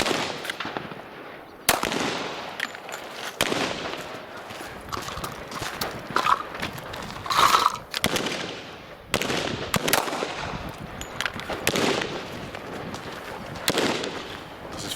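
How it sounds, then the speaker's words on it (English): Smith & Wesson M&P45 pistol fired at a target from distances of 5 to 25 yards: sharp, loud shots separated by a few seconds each, with a gap of quieter outdoor background between them. "So now we're going to do 5, 10, 15, 20, and 25 yard shots"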